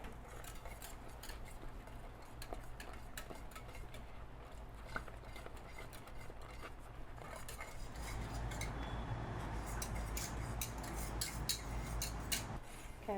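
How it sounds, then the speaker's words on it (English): A whisk clinks steadily against a metal pot as butter and milk are worked into a bubbling, creamy sauce, with rapid ticking strokes that grow busier in the second half, fairly quiet and close. "Okay, whisk that in, along with 2 cups of milk."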